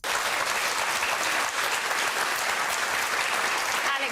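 A studio audience at a televised political debate claps loudly and continuously, a thick wash of many hands that stays steady throughout.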